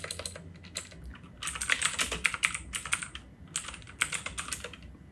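Computer keys clatter as a PHP artisan command is typed, a quick close run of taps with a brief pause midway before another burst of keystrokes.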